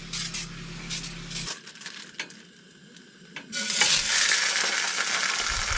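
Oil sizzling in a frying pan as raw sausages cook over low heat at an outdoor truck camp in the New Zealand wilderness, a crackling hiss that drops away briefly, then surges back louder and fuller near the end.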